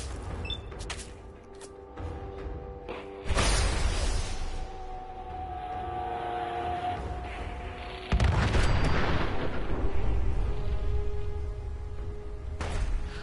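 Booming explosions from a nuke in a PS4 video game, two heavy blasts several seconds apart, each a loud broad rumble that decays slowly, with a lighter hit near the end and no talking.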